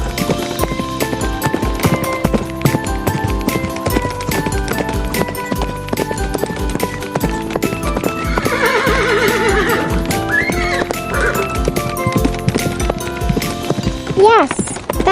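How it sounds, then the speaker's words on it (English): A horse whinnies over a steady clip-clop of running hooves, set against a bright, busy backdrop in a children's animal-learning game, loud and close. "I'm a horse."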